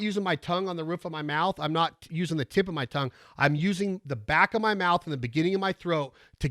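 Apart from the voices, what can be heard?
None of the usual background noises is heard.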